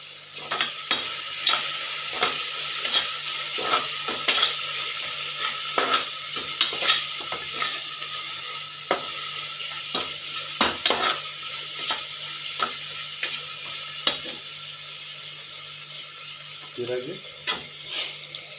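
Onions fry in a pan at home while a spoon stirs them in quick, irregular scrapes and clacks over a steady low sizzle, and a voice speaks faintly now and then.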